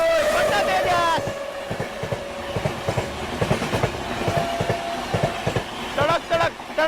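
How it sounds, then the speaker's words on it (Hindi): Tejas Rajdhani Express running New Delhi to Patna passes close by, a horn opening over loud rail rumble, then steady clickety-clack of wheels on track joints with squeals and more horn toward the end. "सामने से आ रही है नई दिल्ली पटना तेजस राजधानी एक्सप्रेस, जो कि राजेंद्र नगर टर्मिनल के लिए जाती है।"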